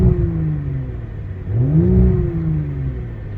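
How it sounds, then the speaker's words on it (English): An Audi S5 B9 engine fitted with a CTS high-flow cat exhaust, heard from inside the car with the AC running, revs up twice in rising then falling sweeps over a steady engine hum. "Now this is a proper rev of the inside of the car."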